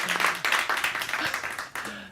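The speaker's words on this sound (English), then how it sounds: "Let's give them a round of applause" Applause from a live in-house studio audience at a show, a short burst of claps and cheering mixed with a speaking voice.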